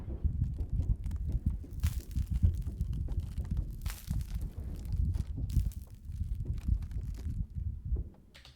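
Layered earthquake effect built from a phone recording of an air conditioner: a deep, continuous rumble with a churning low end, scattered thuds and brief crackling bursts, steady and loud throughout.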